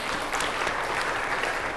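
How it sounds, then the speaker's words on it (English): An audience breaks into dense, steady applause that fills a short moment at a conference session, with no talk over it. "that is a round of applause for that one"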